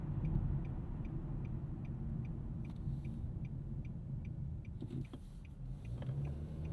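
A 2025 Nissan Sentra S base compact with a CVT gathers speed on a morning commute, heard from inside as a steady low engine and road rumble with faint ticking, no talking.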